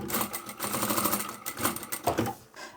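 A sewing machine runs in steady rapid bursts stitching the seams of a large fabric drawstring laundry bag, close and fairly loud, with a brief pause and a couple of short restarts near the end.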